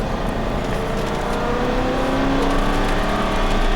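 An Aston Martin V8 Vantage accelerates hard out of a tight turn on a race track, its engine roar steady and loud throughout without a break, with no talking.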